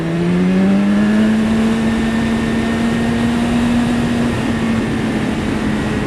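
A 2015 BMW S1000RR superbike ridden at speed: a loud, continuous engine drone that rises slightly in pitch and holds steady, wrapped in heavy wind rush, with no voices.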